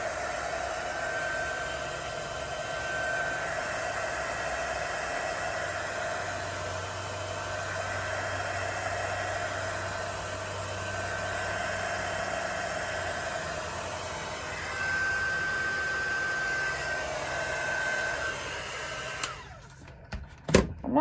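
A heat gun blows steadily on an ink-coated tumbler, a constant airy roar that lasts nearly twenty seconds before it cuts off and a few handling clicks follow.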